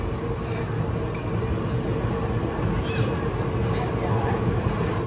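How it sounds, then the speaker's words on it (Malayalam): The KSR Bengaluru–Mumbai CST Udyan Express at Wadi Junction station gives a steady, loud rumble of railway carriages and engine noise, a dense continuous drone with faint higher clatter throughout. "KSR Bengaluru Mumbai CST Udyan express ആണിത്."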